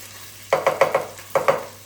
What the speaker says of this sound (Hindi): keep frying it until it's nice and crispy brown